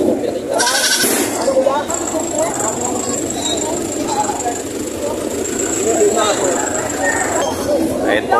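Goats bleat repeatedly at a livestock market in Padre Garcia, Batangas, loud and close over a busy crowd murmur and a low engine rumble, with several calls overlapping.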